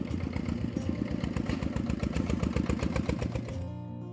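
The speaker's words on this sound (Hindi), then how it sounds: "एक बार एक ट्रैक्टर बोरी लाद कर वहां आई।" A tractor arriving loaded with sacks, its engine chugging in a steady, loud, rapid pulsing rhythm close by for several seconds before cutting off abruptly near the end.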